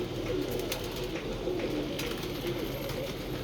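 Pigeons coo softly and repeatedly, low and steady under a faint background hiss, with a few light chirps mixed in.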